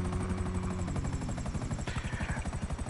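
A helicopter in a video game thuds with a steady, rapid rotor chop close by, its rhythm strengthening toward the end, and no one speaks.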